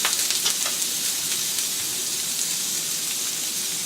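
Prawns hitting a hot pan during a Chinese noodle stir fry, a dense, loud, continuous sizzle like hissing rain, with a few crackling pops near the start.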